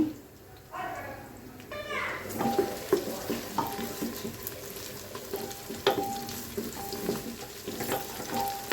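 Oil sizzles and crackles steadily as fennel seeds fry, with stirring clinks and a voice talking briefly in the background.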